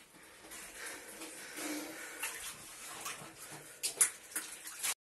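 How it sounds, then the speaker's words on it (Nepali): Underground stream water flows inside Kumari cave in Pokhara, Nepal, a faint, steady trickling rush that swells into a few louder splashy surges toward the end. "पानी यहाँ जमिन मुनि मुनि हुँदै काली खोला निस्केको छ"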